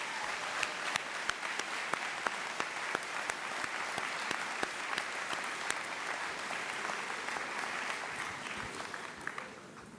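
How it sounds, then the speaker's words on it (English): Community college graduation audience applauding parents and family, a dense, steady crowd clapping with sharp individual claps standing out, fading slightly toward the end. "please join me in providing the valuable and at-home support system a round of applause for all the parents and family."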